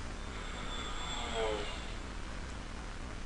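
A Stuka tactical bomber attacking in the wartime strategy game Panzer General: a steady broadband aircraft engine drone with a brief swell midway, continuous throughout.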